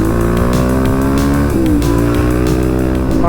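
A Suzuki DRZ dirt bike engine revs hard at high speed, a loud, steady, buzzing drone that dips briefly in pitch and climbs again, close to the listener with no talk.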